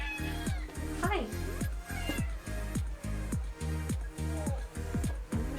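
A cat meows repeatedly and insistently close by, a rhythmic series of drawn-out cries, with a person briefly speaking over it.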